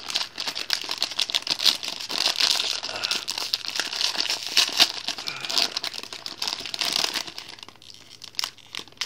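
A large foil blind box bag is crinkled and torn open up close, giving a busy, continuous run of crackling and crumpling with sharp rustling peaks throughout.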